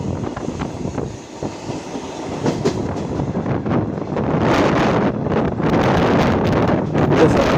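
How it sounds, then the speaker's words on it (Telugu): A passenger train rolling through near Mandsaur Road station with no stop there, a steady rumble of wheels and wagon clatter under wind buffeting the microphone, growing a little louder and denser toward the end. "ట్రైన్ మళ్ళీ స్లో చేసాడు"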